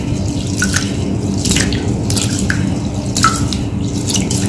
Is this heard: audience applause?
no